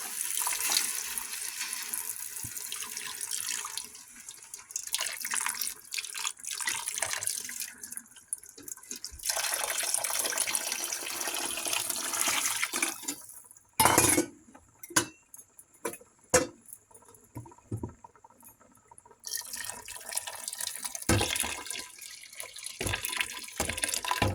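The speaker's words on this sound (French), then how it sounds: "Donc, je vais rajouter l'eau. Voilà, c'est parti, je rajoute l'eau." Water poured into a cooking pot of shorba simmering with tomato, a steady splashing pour near the mic with brief clatters and drips in between, no talking.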